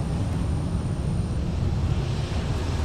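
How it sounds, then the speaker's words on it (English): A Sun Country Boeing 737-900ER airliner taking off from runway 30 Left at MSP produces a steady, heavy jet roar with deep rumble, loud and continuous, mixed with wind buffeting on the microphone. "Sun Country departing 30 left with only a handful of 737-900ERs in their fleet."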